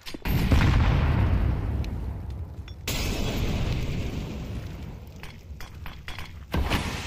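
A thrown incendiary fire grenade in the video game Counter-Strike bursts into a loud, roaring blaze that crackles and rumbles for several seconds, cut off and then swelling again with a second heavy burst near the end.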